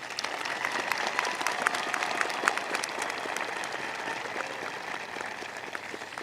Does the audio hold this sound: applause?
yes